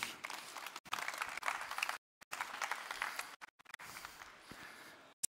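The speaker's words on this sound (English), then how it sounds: "Applause to him." An audience at a partners and sponsors conference session applauds in bursts, the clapping cut by short silent gaps, moderately loud and without speech over it.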